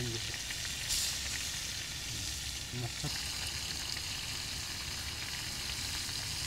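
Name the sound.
hilsa fish frying in oil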